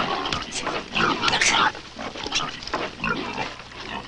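Pigs grunt and oink while feeding, a loud, close run of irregular snorts and squeals jostling over one another, alone without talk.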